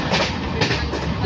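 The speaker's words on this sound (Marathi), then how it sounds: "या स्पीडने आपली ट्रेन चालू आहे" A superfast train from Mumbai LTT to Ratnagiri runs at about 106–107 km/h, heard from on board as a loud, steady rumble with rapid clickety-clack of wheels over rail joints.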